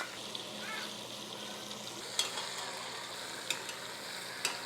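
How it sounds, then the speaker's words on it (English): Chicken pieces for adobo sizzle quietly in a pan while getting a sear, a soft steady hiss with a few sharp clicks from utensils, and no voices. "I'm just trying to get a nice sear on the outside."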